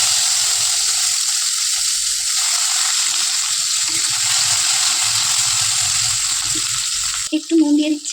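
Tomato dropped into sizzling cumin in a pan for dal sets off a loud, continuous frying crackle and hiss that runs steadily and then cuts off abruptly near the end, followed by a few faint clatters.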